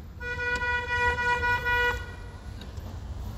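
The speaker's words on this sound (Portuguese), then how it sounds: "Vou buzinar." A car horn honks several times in short, close blasts in a city street, with road traffic in the background.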